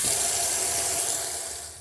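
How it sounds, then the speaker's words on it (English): Hot water gushes steadily from a tap into a large bucket with a scoop of OxyClean, a close, even rushing splash with no voices. "fill it with hot water"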